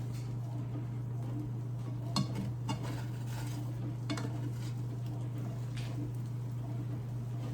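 Food being flipped and scooped in a buttered pan with a tortilla, soft metal spatula scrapes and a few sharp clinks over a low steady hum and faint sizzle, close and quiet.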